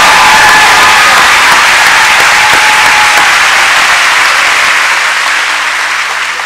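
A large convocation audience bursts into loud, dense applause with some cheering for the band, sustained for over six seconds before gradually tapering off near the end.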